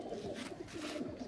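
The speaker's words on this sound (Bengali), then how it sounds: "এই অরিজিনাল আন্দ্রা লালসিরা রটেলো পায়রা যেগুলো বলা হয়" Original pure Andhra Lalsira Rotelo pigeons coo in a loft, a low soft murmuring coo repeating in short pulses close by, with no talk over it.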